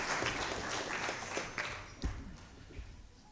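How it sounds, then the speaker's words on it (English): Audience applause at a University of Limpopo book launch, a broad sustained wash of clapping from a crowd, fairly steady and then thinning toward the end, with no voices over it. "I think this calls for a thunderous"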